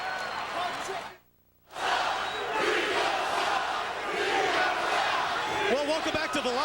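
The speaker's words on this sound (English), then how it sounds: "Listen to this crowd." Roaring wrestling arena crowd at a televised WWE event, loud sustained cheering and shouting that cuts out briefly for about half a second, then surges back and keeps going, with a commentator's voice audible over the din near the end.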